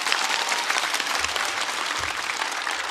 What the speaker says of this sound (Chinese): 掌声送给他们。